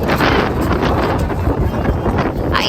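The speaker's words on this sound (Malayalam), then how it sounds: "നല്ല കുട്ടം കാറ്റടിക്കുന്നടോ" Strong wind buffets a phone microphone outdoors near the Adiyogi statue in Coimbatore, a loud, continuous rumbling roar that fills the whole stretch.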